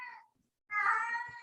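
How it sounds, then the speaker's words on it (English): A housecat meows twice at close range: a short cry, a brief pause, then a longer, louder drawn-out yowl, with a quiet indoor room behind it. "That's my cat."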